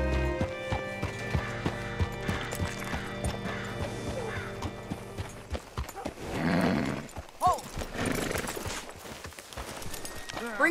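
In the video game Red Dead Redemption 2, horse hooves clip-clop steadily up close, then the horse snorts and gives a loud whinny midway, with a game soundtrack and rattling tack beneath.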